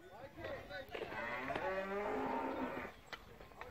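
A cow on a herding farm gives one long, drawn-out moo, close and clear, rising and holding before fading, over steady outdoor background noise.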